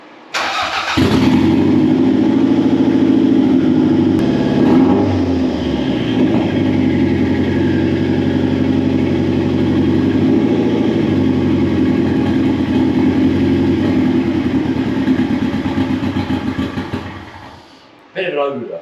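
A fake Lamborghini replica's engine runs steadily for most of the clip, a loud, close, continuous mid-range drone with a small engine's rough note, cutting out near the end.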